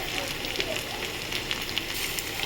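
Crushed garlic dropped into hot oil fries with a faint, steady crackle and hiss, small pops scattered through it.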